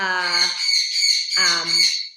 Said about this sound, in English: we're gonna find a new place for the birds, because they're a little chatty